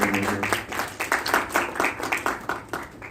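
Audience applause at a conference talk on collaborative construction contracts, a few seconds of steady, moderately distant clapping from a room of people with no voices over it.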